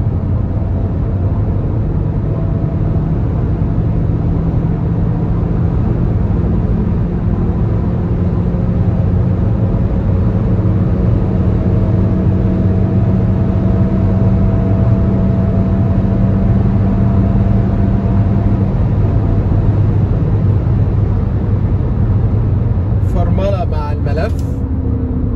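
Haval H6 SUV accelerating on a highway in sport mode, a steady loud interior drone of engine and road noise with rising tonal whine, a brief clatter near the end.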